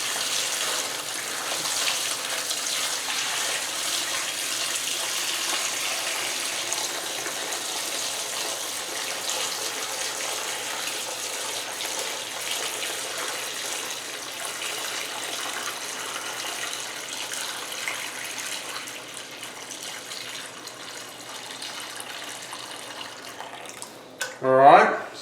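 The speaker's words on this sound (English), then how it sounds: "let's start pouring some of this chilled brine over them" Chilled brine pours steadily over two 14-pound turkeys in a briner bucket, a continuous close splashing and gushing that runs for a long stretch and ends in a brief louder slosh.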